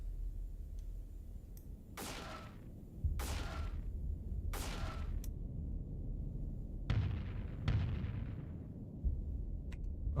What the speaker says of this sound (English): Oh, the swarm launchers just go.